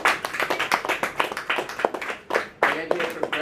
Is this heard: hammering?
no